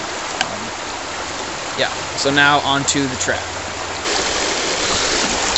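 A steady roar from a high-flowing river nearby fills the background while someone speaks briefly over it, the water noise swelling louder near the end.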